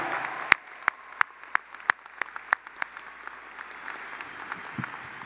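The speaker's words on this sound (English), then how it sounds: "And how about a round of applause for Emily for singing of the national anthem" Audience applause at a Clemson University spring graduation ceremony: a string of crisp, evenly spaced individual claps stands out at first, then fades into a softer, diffuse wash of hall ambience.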